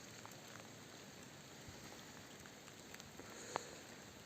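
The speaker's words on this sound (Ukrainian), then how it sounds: "Треба йти так, як починається сильніший дощ." Steady rain falls over a mountain bog in a Carpathian nature reserve, a soft, continuous hiss-like patter heard faintly at a distance, with one brief sharp tick near the end.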